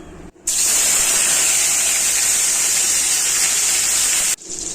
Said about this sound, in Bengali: একটা বড় সাইজের টমেটো ছোট করে টুকরো করে নিয়েছি, তেলের ওপরে দিয়ে দিলাম।